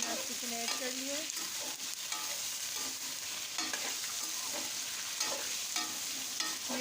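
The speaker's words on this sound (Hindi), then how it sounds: "तो तेल हमारा अच्छे से गर्म हो गया है और इसमें हमने अपना चिकन ऐड कर लिया है" Chicken pieces frying in well-heated oil for chicken karahi, a continuous crackling sizzle with stirring scrapes, moderately close and steady throughout, no talking.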